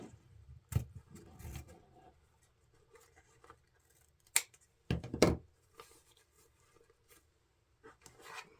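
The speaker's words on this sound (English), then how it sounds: "we're going to cut our 6-inch tail" Scissors snip through ribbon, making a few sharp cuts amid quiet rustling of material, close and faint with pauses between.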